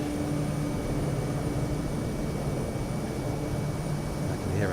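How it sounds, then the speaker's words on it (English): A jet aircraft in a flight simulator game buzzes close past the player's plane, its steady broadband roar loud and continuous beneath the cockpit drone, with a brief rising whine near the end. "I can hear a jet."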